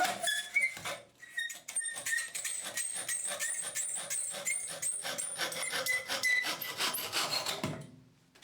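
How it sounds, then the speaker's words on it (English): A hand saw cuts straight down through a small block of wood, a steady series of rasping back-and-forth strokes, close and fairly loud, slowing to a stop near the end. "we're just going to take a saw and we're just going to cut straight down the centre there"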